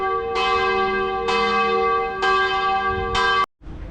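Loud church bells from a town clock tower in Croatia strike four times at a steady pace at noon, each clang sustaining a rich humming tone before a sudden cut.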